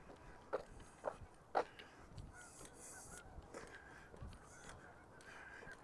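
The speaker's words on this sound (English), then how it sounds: "geese, more geese" Geese honk out by Wascana Lake in Regina, three short calls near the start, with faint honks over a steady outdoor background.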